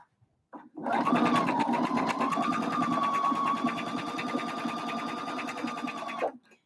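A sewing machine top-stitches a cinch bag at a long stitch length of about three, starting after a short pause and running in one continuous rapid, rhythmic burst, close and clear, before stopping near the end.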